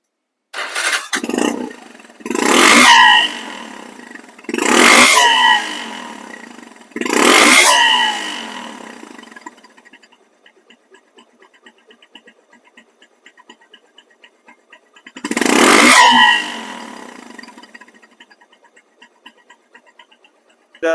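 A 14-year-old Bajaj Discover 135cc motorcycle engine revs in four strong, rising bursts about two seconds apart, drops to a quiet idle, then gives one more loud rev near the end, heard up close with no talk.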